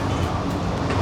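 An airport train glides past at a departure terminal, a steady, close rumble with a broad, continuous roar and no distinct clatter, holding level for the whole moment.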